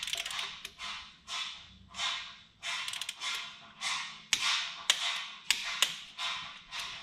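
A wrench ratchets TD42 Patrol injector bolts up to torque, giving a close, steady series of short ratcheting strokes with sharp clicks, about a dozen bursts in a regular rhythm, with no talk.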